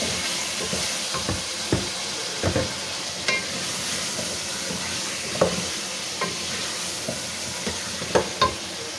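Half a kilo of potatoes fry in a pot for beef yakhni pulao, a steady hiss and sizzle broken by sharp scrapes and knocks of stirring at irregular intervals.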